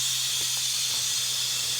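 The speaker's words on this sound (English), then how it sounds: "So what you need to do is move and open the valve, and we let the steam out." Steam hisses steadily out of a pressure cooker's opened release valve while dog food cooks, a loud continuous rushing hiss heard alone.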